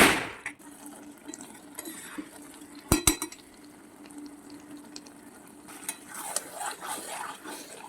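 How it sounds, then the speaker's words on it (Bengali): Chicken pieces added to oily spiced masala in a pan for a home-style curry, bringing metal clinks and clattering from a utensil, a soft stirring sizzle and faint background voices. "এই মুহূর্তে আমি চিকেনগুলো সব দিয়ে দেবো।"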